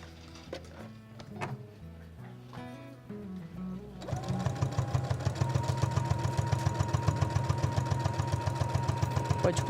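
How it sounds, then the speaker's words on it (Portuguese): A sewing machine stitches a quilted fridge note holder, running steadily right side to right side along a marked line; after a quieter stretch with music, the dense rhythmic whirring starts and continues to the end, close and fairly loud. "eu vou costurar exatamente em cima do risco"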